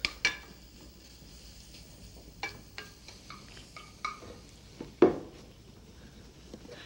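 Mushrooms cook in a pan on a French-style stovetop, with a soft steady sizzle under scattered clinks and scrapes of utensils against the pan and one sharper knock.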